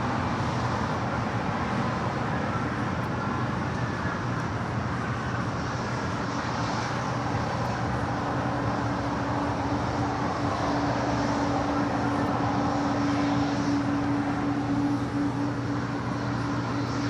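A United Boeing 757-300 airliner arriving at Los Angeles International Airport from Denver, heard as a steady, continuous broadband jet roar with a sustained engine whine, fairly distant and unchanging throughout, with no voices.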